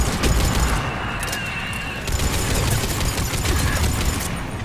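Bombs explode amid Mass Effect 3 combat as a loud, continuous roar of booms and crackling blasts that barely lets up for the whole stretch, with no clear talk.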